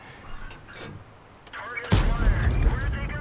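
A tank cannon blasts in World of Tanks, with a T32 in play. One loud, close shot is followed by a rumbling tail, after fainter earlier thumps, with a voice talking faintly beneath.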